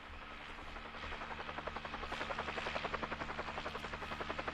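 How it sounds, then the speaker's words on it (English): Helicopter rotor from the ending cutscene of Resident Evil, Chris's best ending, in a steady rhythmic chop that grows louder and more pronounced, with no talk over it. "once the screen fades out and the helicopter cutscene starts"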